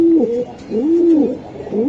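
A pigeon coos close by, a few low rolling, warbling calls repeating one after another with no talking.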